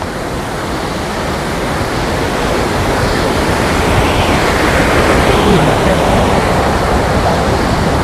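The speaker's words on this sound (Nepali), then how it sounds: "यहाँको झरनाको स्वरै बेग्लै छ" Sursing waterfall on an offroad route in Helambu, a loud, unbroken roar of falling water filling the scene, steady throughout.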